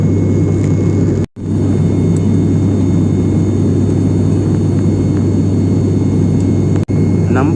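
An Alliance Air turboprop airliner cruising on a Bangalore flight, its engines a loud, steady droning hum heard from inside the cabin, broken by two brief dropouts, with no voices.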